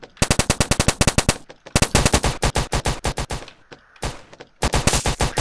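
SMG gunfire in a video game: rapid, loud automatic bursts of sharp shots, several strings separated by brief pauses.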